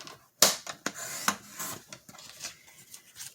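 A craft cutter slicing through folded paper, with sharp scraping cuts and rasping strokes spread across a few seconds at close range.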